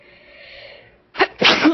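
A single sudden sneeze, loud and close, breaking a quiet stretch with a soft tonal hum, followed by a brief noisy exhale.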